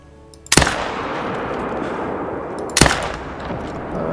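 Hunting rifle gunshots in the Call of the Wild hunting video game, two sharp loud reports spaced about two seconds apart, each followed by a lingering rumbling echo over quiet outdoor ambience.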